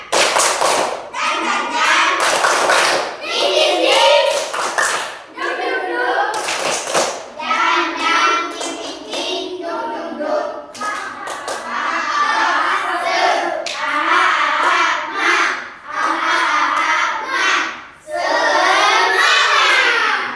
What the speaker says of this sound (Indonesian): kita tepuk tangan aja ya. Tepuk semangat